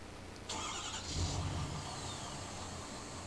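A pickup truck engine in Farming Simulator 15 cranks and starts with a short burst, then settles into a quiet, steady idle, fairly soft and close.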